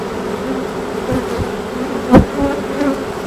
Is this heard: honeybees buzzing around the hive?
yes